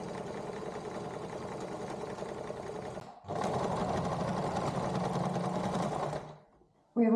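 A sewing machine fitted with a zigzag foot and a size 100/16 needle stitches polyester thread into a boat lee cloth, running in a loud steady whir. It stops briefly once and restarts, then winds down near the end.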